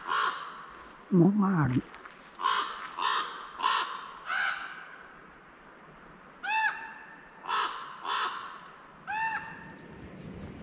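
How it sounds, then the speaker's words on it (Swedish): Ravens call in flight overhead, a series of hoarse, ringing caws spaced a second or so apart, moderately near and clear, with a brief spoken phrase early on. "korparna flyger."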